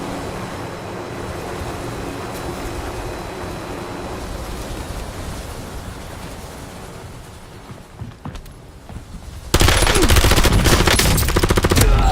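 Rapid automatic gunfire in a video game rattles on as a steady dense stream, then turns sharply louder and harsher near the end, with no talk over it.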